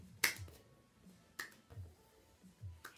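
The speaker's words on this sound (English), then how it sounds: "Now try adding a double clap before you catch." Hands clap sharply during a seated senior exercise with a squeeze ball, three crisp isolated claps spaced about a second apart, close and clear over quiet background.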